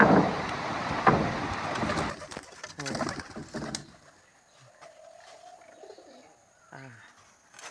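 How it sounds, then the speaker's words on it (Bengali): Pigeons set loose from a household loft give a few seconds of loud flapping and rustling, then quieter coos and calls drift in over a hushed background. "এখন একটু কবুতর ছেড়ে দিই।"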